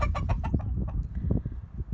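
A rooster crows in a short, loud burst close by, a ragged call with a clucking edge over low farmyard rumble.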